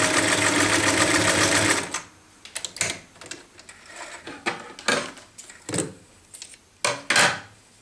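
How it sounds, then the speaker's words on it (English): Sewing machine stitching fabric strips for a pieced quilt, a steady close whirring run for about two seconds, then a series of short stop-start bursts with small clicks and pauses between them. "I'm just going to start sewing."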